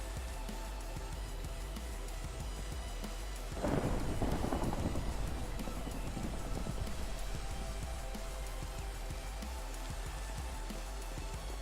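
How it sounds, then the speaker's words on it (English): A thunderstorm in the Minecraft survival game: a deep rolling thunder crash erupts partway through and rumbles away over a constant hiss of rain, fairly faint overall. "First thunderstorm, by the way, guys."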